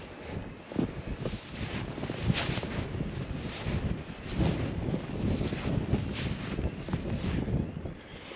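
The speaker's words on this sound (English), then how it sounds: "Cold wind." Cold wind roars steadily in a snowy UK blizzard, buffeting the microphone in loud, gusting surges with no voices.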